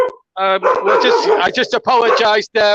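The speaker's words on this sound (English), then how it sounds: "I just want to apologise there if you could hear a dog in the background." A dog barks repeatedly in the background, a series of close, loud yips and woofs under someone speaking.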